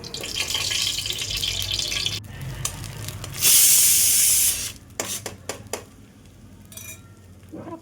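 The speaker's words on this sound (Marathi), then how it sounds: "तूप टाकून घेऊ फोडणीला" Ghee for a kheer tempering, with ground coconut and cardamom nearby, hisses and spatters in a pan, swelling into a loud, bright sizzle midway. Utensils clink and scrape around it, and no one speaks.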